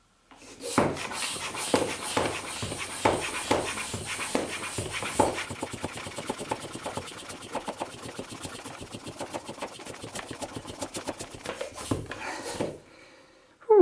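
A lightweight bicycle hand pump is worked hard and fast to inflate a tire, giving a steady run of rapid, rhythmic hissing strokes that hold for several seconds before stopping abruptly, with no voices.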